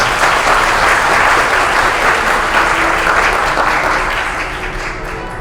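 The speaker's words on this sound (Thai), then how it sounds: "ขอเรียนเชิญและขอเ สียงปรบมือต้อนรับคุณกิรัดครับ" An award-ceremony audience at a national printing contest gives loud, sustained applause to welcome a speaker to the stage, a thick crowd clapping that gradually tapers off toward the end.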